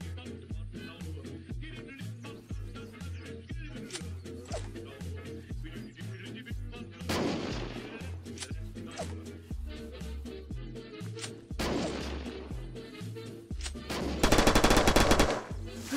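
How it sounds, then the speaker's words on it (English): Gunfire and a grenade blast in the modded battle royale mode of the game Unturned: rapid automatic shots run throughout, with loud broadband bursts around the middle and a heavy, harsh explosion near the end. "I killed him with the last nade."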